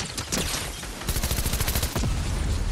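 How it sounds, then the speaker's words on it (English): Rapid bursts of shotgun fire in the Fortnite Battle Royale video game, loud, dense and close, with blasts overlapping into a near-continuous barrage and no speech. "Hit him with a shotgun."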